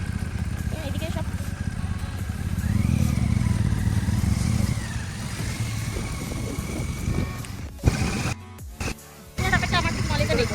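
Motorcycles at Gajoldoba turning around nearby, their engines idling and revving in a steady low rumble with wind noise and some clatter, while people talk over it.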